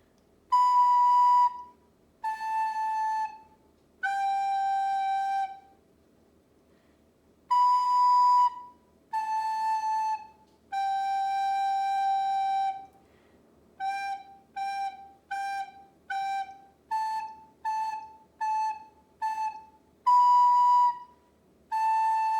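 A recorder plays Hot Cross Buns alone, clear breathy tones in three held descending notes twice, then a quick run of short repeated notes before the closing phrase.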